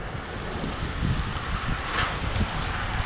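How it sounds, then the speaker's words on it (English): Steady wind rushes and buffets against the microphone, rising in gusts, with no voices present. "Getting a little bit windy up here."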